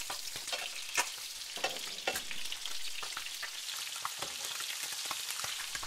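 Bright crackling sizzle of fish fillets frying in a pan after being flipped, steady and close, with occasional louder pops and spatters throughout.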